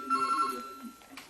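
A telephone rings in a home in Redfern, Sydney, a short electronic trill starting near and fairly loud, then fading into low room noise and faint shuffling.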